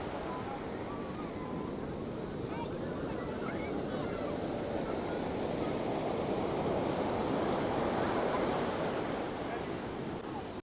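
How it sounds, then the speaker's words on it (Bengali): Rough sea waves breaking at Puri beach before sunrise, a continuous loud roar of surf with wind buffeting the microphone, no distinct pauses between breakers. "দেখতেই পাচ্ছ সমুদ্রের উত্তাল ঢেউ রয়েছে।"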